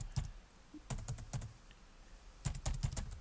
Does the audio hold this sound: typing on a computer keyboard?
yes